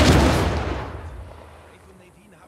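A single loud, booming gunshot in Uncharted 4: A Thief's End fades into a long echoing tail, and a sharp new burst cuts in at the very end.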